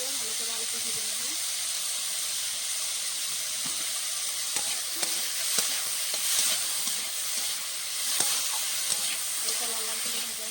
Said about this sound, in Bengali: একটু মরিচ গুঁড়ো দিয়ে ভালো করে আলুটা ভেজে নেব।